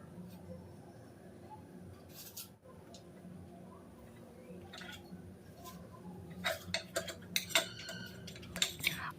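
A knife halving soft balls of chhana and potato makes a few small, crisp clicks against the dish near the end. The clicks are close and quiet over a low kitchen background.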